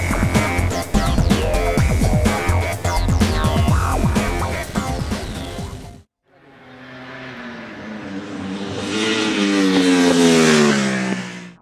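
Ducati 1199 Panigale superbike riding on the Mugello track, a loud close engine scream shifting through gears, then after a brief drop a rising roar building back to a high pitch.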